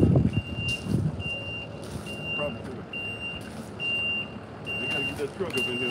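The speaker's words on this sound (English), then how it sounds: "We gotta get that truck up in here, man." A truck backing up at a gravel construction site for footings and walls, with steady repeated reversing beeps over engine rumble while people talk nearby.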